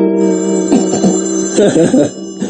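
A telephone rings with a steady electronic tone that warbles in short bursts, loud and close, with no one speaking.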